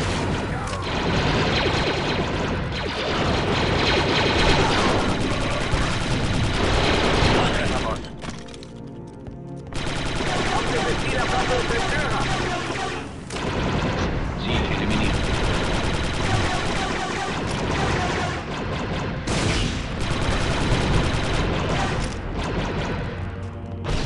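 Rapid bursts of blaster gunfire in Star Wars: Republic Commando crackle and pop over a busy, loud soundtrack, with brief lulls between volleys.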